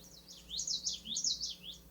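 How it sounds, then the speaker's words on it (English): A common yellowthroat sings a few clear, rolling high chirped phrases in quick succession, moderately close against a quiet background. "Oh, here we go. Common yellowthroat song."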